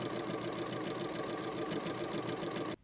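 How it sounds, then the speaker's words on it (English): A sewing machine stitching the binding onto a quilt runs steadily at close range, a fast, even mechanical chatter of rapid needle strokes that continues without a break and then stops abruptly at the end. "we're just going to carry on sewing all the way along with our 3/8 of an inch seam allowance"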